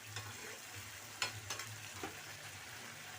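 Spice paste, sweetened with a little sugar, sautéing in a pan for a prawn curry with banana and potato: a soft, steady sizzle with a few faint stirring scrapes, quiet and close, with no talk.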